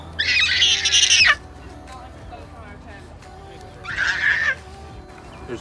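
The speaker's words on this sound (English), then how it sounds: "Are you chasing the birds, Levi?" Birds squawk in two loud harsh bursts as a child chases them outdoors near palm trees, with a quieter gap between and faint background activity.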